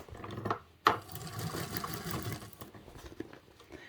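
Sewing machine top stitching through a large foldable tote bag panel, a fast mechanical whirr in short bursts with a sharp clack early on, close and moderately loud, no voices.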